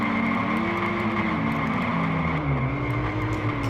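Race cars in a racing video game hold a loud, steady engine drone with rising and falling pitch sweeps as the cars run, a continuous roar with no talk over it.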